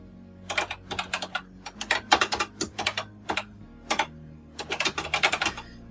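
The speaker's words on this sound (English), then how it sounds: "Okay, so let's just type in a program." Typing a program on a BBC Model B computer keyboard: close, crisp clattering keystrokes in several quick bursts separated by short pauses, over a faint steady hum.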